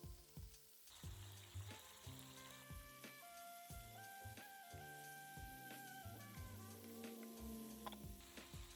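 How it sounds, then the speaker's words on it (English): Brisket strips browning in lard or tallow in a hot frying pan, sizzling and spitting with a steady crackling hiss, soft music playing underneath. "Add some lard or some tallow to a hot frying pan and then brown the brisket"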